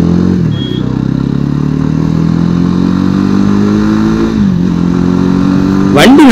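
A Jawa motorcycle engine revs while the bike is ridden on an open road, a loud, steady mid-pitched drone that climbs gradually in pitch, with a brief dip and a rough burst at the end.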